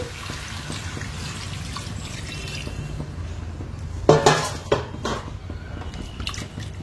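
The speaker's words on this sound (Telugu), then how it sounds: "ఇప్పుడు వాటర్ వేసేసుకుందామండి." Water is poured into a pan of large fish pieces for a fish curry, a short splashing burst in the middle of an otherwise quiet kitchen with a faint background hum.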